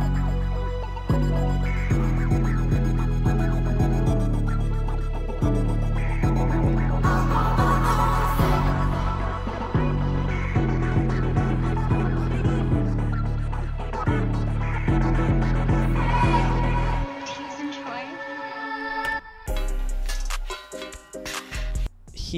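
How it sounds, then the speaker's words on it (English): A remixed High School Musical 3 intro, drenched in crystallizer reverb with sweeping whooshes, plays as a dense, loud music loop with steady pulsing beats, thinning into spacey swells near the end. "I just added some crystallizer to it to make it more spaced out and reverby."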